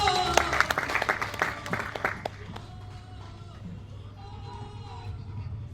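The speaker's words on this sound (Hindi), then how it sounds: "आप सबकी जोरदार तालियों के बीच में।" Seminar audience in Ahmedabad breaking into loud applause, a burst of many claps over the first two seconds that quickly fades, leaving a low hum while a voice speaks.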